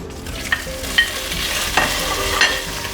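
Shrimp dropped into a pan of frying garlic, giving a steady sizzle with a few sharp clinks and scrapes of a utensil against the pan, close and moderately loud with no talking.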